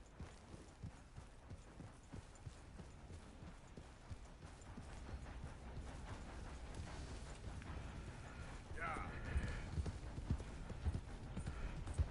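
Horse hooves clip-clop in a video game, a quiet, steady run of hoofbeats that continues throughout and grows a little louder toward the end.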